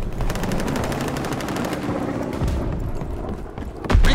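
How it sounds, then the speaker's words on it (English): Fighter plane strafing a target in Call of Duty WW2 Domination on USS Texas, a loud, dense burst of rapid machine-gun fire roaring continuously for several seconds, ending with a heavier boom. "Fighter pilot inbound, strafing the target!"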